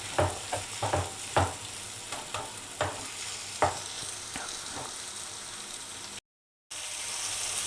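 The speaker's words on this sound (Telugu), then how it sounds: "ఇది మనకి ఈ టమాటా ఇవి పచ్చడికి వేగడం అయిపోయినవి." Tomatoes fry in a pan for chutney with a soft, constant sizzle close by. A spoon knocks and stirs in irregular taps, there is a brief silent gap, and then the sizzle carries on alone.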